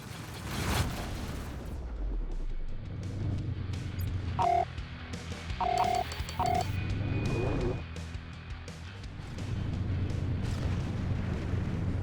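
A spaceship target bursts apart in Rebel Galaxy Outlaw with a deep rumbling boom that rolls on, followed by electronic beeps and a second swelling roar, with no voices.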